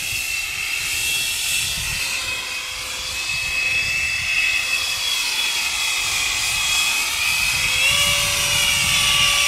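An H-King 70mm EDF Parajet model jet flies overhead, its electric ducted fan giving a constant high-pitched whine over rushing wind noise, with the pitch shifting slightly as it passes.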